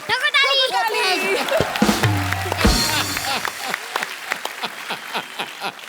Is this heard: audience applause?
yes